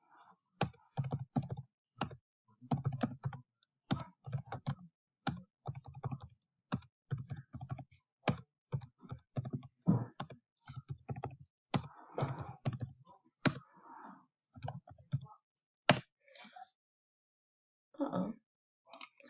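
Fingers type numbers on a computer keyboard in quick clattering bursts of key clicks with short gaps between them, close and crisp, then a few scattered final taps.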